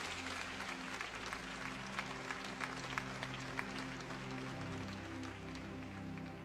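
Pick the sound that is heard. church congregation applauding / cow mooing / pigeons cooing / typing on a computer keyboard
church congregation applauding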